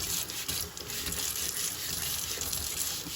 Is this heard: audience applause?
no